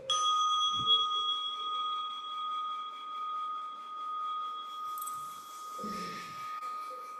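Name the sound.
chime being rung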